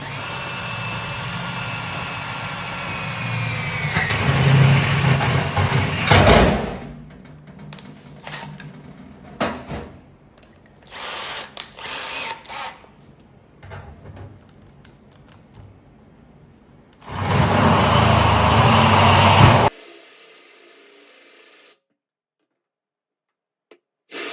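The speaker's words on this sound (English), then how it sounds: "I'm going to start drilling a pilot hole, and then we're going to go through with a full 10 millimeters" A power drill bores through a metal sink, whining in loud bursts for a pilot hole, starting and stopping several times, then a long steady run for a 10 mm hole before it cuts off.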